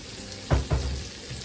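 Breakfast burrito filling frying in a pan over medium heat, a soft steady sizzle with two brief louder stirring scrapes near the start, heard close and without talk.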